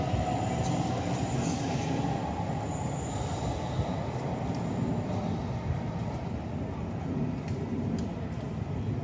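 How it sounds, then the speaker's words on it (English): A fast non-stopping train rushes through a Great Western Main Line station on a rainy day, a loud steady roar of rolling wagons and wheel noise holding for the whole stretch with faint squealing. "the approaching train does not stop here"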